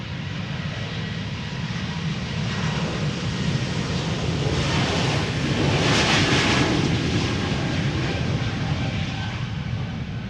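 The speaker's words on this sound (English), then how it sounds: "Air Baltic Flight 618 Bombardier C-Series 300 A220 as they're called these days." An Air Baltic Bombardier C-Series 300 (Airbus A220) jet departs Amsterdam Schiphol Airport, its engines a broad, steady roar that swells toward the middle and then holds, heard up close from outside.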